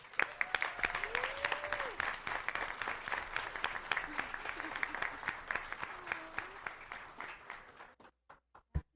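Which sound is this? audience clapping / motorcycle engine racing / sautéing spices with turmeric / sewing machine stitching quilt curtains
audience clapping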